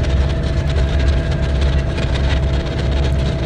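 Steady diesel rumble and rail noise heard from the wooden-bench passenger seats of the lead car of a DR1a diesel train in BeamNG. A continuous low engine drone with faint track clatter and no talking.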